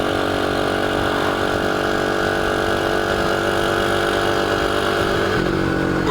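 Original SkyTeam 125cc engine in a restored Dax motorcycle with 2500 km, idling steadily and close, a continuous even putter with no talk.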